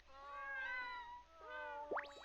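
Cats meowing in the video game Little King's Story, two long drawn-out cartoonish meows close and clear, followed by a quick bouncy sweep of game sound.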